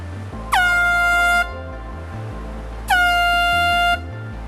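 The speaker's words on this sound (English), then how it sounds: "While small air horns can be used" Two loud, sustained blasts from a small air horn, each about a second long, separated by a short pause over faint background noise.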